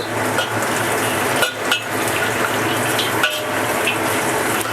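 Soaked spices for Hong Kong style brine are dry-fried in an electric wok, with constant scraping and rattling as a metal spatula stirs them, punctuated by a few sharper clanks against the pan, loud and close.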